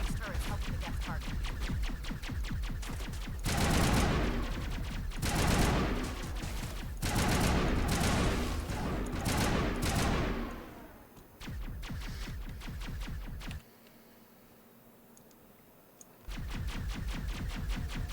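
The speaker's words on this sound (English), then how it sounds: "This is the full auto gun." Full-auto gun firing in Mass Effect: dense rapid bursts of automatic fire over several seconds, broken by short gaps, then a quieter lull before the rapid fire resumes, with no talk heard.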